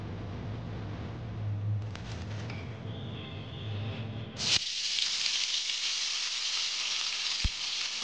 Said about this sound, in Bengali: গরম তেলের মধ্যে মাছ দিয়ে দিয়েছি। এবার মাছগুলি ফ্রাই করে ভেজে নেব।